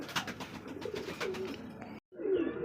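Lahori pigeons at a pigeon farm, with soft repeated coos and low murmuring that continue steadily close to the listener, broken by a brief silent gap before the cooing resumes.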